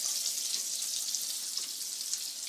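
Mushrooms fry in olive oil in a pan, giving a steady, close crackling sizzle with bright spitting texture throughout and no voices.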